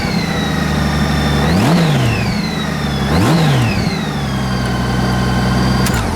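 2012 Honda Goldwing motorcycle engine with about 50,000 miles running loud and close, holding a steady idle between two smooth rev blips, with no talking over it.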